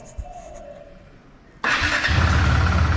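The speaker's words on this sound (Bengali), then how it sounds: "তো বাইকটাকে স্টার্ট করা যাক, কেমন?" A KTM Adventure 390 motorcycle, wet from washing, fires up abruptly after a quiet moment and settles straight into a loud, steady, close idle rumble.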